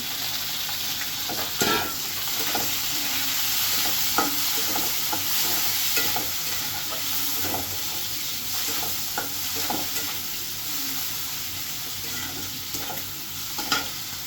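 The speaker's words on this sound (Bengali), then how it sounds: "একসাথে আমি চিংড়ি মাছটাও দিয়ে দেবো ভাজার জন্য" Prawns sizzle steadily in a hot pan, with occasional scraping stirs and light clinks and no voices.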